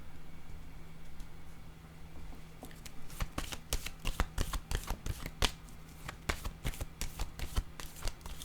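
A deck of playing cards is shuffled up close, a slow start giving way to a run of crisp, rapid riffles and snaps that repeat in quick bursts.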